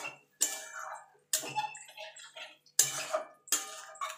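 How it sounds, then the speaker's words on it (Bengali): Rinse water from a mixer grinder jar is tipped into a pan of spice masala, making a few short splashing pours that start and stop in separate close bursts. "এবার মিক্সির জারটা ধুয়ে জলটা দিয়ে দেবো।"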